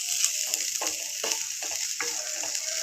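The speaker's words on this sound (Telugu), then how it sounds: "ఉల్లిపాయలు వేగిన తర్వాత కొద్దిగా అల్లం వెల్లుల్లి పేస్ట్ వేస్తున్నాను." Ginger garlic paste fries with sautéed onions on a low flame, a close, even sizzle broken by rhythmic stirring scrapes roughly every half second, with no speech.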